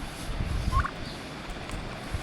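A six-month-old farm turkey gives a short gobble partway through, faint and a little distant over a steady outdoor background rumble.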